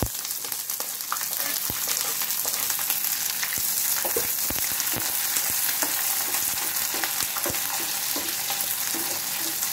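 Onions frying in a hot pan with garam masala for kadhi, giving a steady close sizzle with frequent crackles and pops and no talking.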